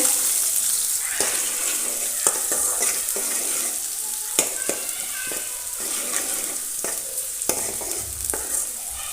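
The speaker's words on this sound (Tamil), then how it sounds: "பொடியாக நறுக்கிய 2 பெரிய வெங்காயத்தை சேர்த்துக்கலாங்க. சேர்த்து நல்லா வதக்கிக்கலாங்க" Loud, continuous sizzling of chopped onions in a hot pan, broken by the scrape and clatter of a spoon stirring every second or so.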